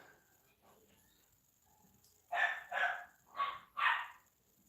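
A dog gives four sharp barks in quick succession, moderately close and loud, after a quiet stretch with faint background noise.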